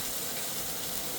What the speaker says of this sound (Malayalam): ജിഞ്ചർ ഗാർലിക് ആൻഡ് ഗ്രീൻ ചില്ലീസിനെ നല്ലോണം ഫ്രൈ ചെയ്യുക